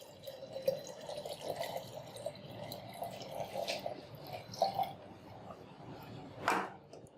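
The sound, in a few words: pouring cold ice water into a jug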